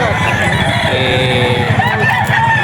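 Roosters crow amid a noisy crowd of clucking fowl at a pet market in Bocaue, with a busy background murmur and overlapping calls throughout the short stretch.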